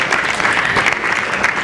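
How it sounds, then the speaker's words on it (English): An audience at an education talk claps steadily and fairly loudly for under two seconds, dense and even with no voices standing out. "Let's give them a hand clap back there."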